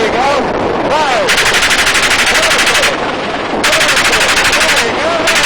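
A machine gun fires from a gunship helicopter over a Las Vegas range in loud, close, sustained bursts, with short pauses between them and rotor noise and talk underneath.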